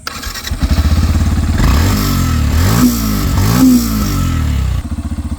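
A Yamaha FZS version 3 motorcycle engine starts with a rapid putter, then revs up loudly, the roar rising and falling twice before settling back to a steady idle.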